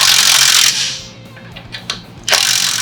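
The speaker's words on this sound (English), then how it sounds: "we've got our torque sticks. So we're going to go ahead and run these down" An impact wrench with torque sticks runs down bolts on a 2018 Honda Civic Si during a CV axle replacement. Two loud, close, rattling bursts are separated by quieter clicking.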